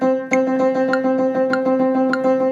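Rapid piano sixteenth notes flow in a fast continuous stream of repeated struck tones, accents falling every fourth note, played alone and fairly loud.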